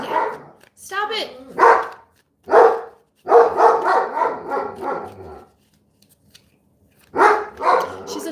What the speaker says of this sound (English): She's a big dog, so she has a big bark.